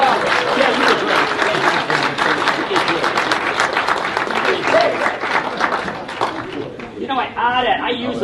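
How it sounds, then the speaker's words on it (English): Sustained applause from an audience fills most of the span, with cheering voices and speech rising through it near the end. "Give a big round of applause."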